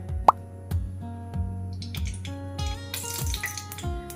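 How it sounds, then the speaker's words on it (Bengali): White cooking oil is poured into a hot wok, with a sharp plop at the start followed by gurgling, glugging pours and a thin trickling stream. "কড়া গরম হতেই দিয়ে দিচ্ছি কিছুটা সাদা তেল।"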